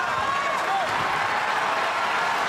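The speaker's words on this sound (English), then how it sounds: "So the crowd responding here down the stretch." A large arena crowd at a UFC fight in Boston roars and applauds in a steady, dense wash of cheering that holds at high volume throughout.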